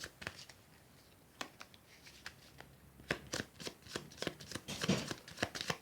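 Board game cards being shuffled by hand during a solo tabletop session, a run of soft close riffles and crisp snapping flicks that grow denser and louder toward the end, with no voices.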